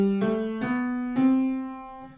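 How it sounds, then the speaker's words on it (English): Single sustained tones step upward one after another from C3 through the C Ionian scale, four clear note onsets ringing into one another, moderately loud with no voices. "Here is the C Ionian scale with all the scale degrees. Starting from C3, it sounds like this."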